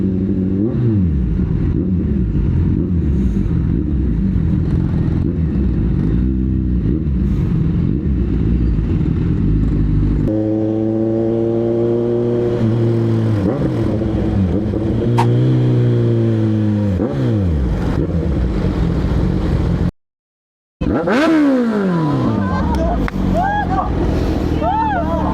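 A 1000cc Kawasaki Ninja liter bike accelerates at night, its engine note climbing and falling through rising revs, loud and close, with one brief dropout near the end.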